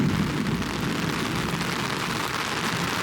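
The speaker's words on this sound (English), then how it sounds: "This is a full-blown storm." Heavy storm rain drums steadily and loudly on a folding reverse umbrella, a dense continuous wash of close impacts with low rumbling underneath and no voices.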